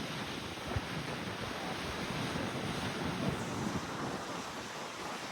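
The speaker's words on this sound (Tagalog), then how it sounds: "Saka malakas yung hangin dito." Strong wind roars across Aruba's rocky North Shore above deep sea, a broad steady rush mixed with surf and microphone buffeting, moderately faint and continuous without voices.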